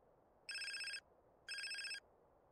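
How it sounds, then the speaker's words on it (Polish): A phone rings in the video game GTA San Andreas Definitive Edition, with two identical electronic trills about half a second each, separated by a pause, over quiet background. "odbiorę ten telefon spokojnie"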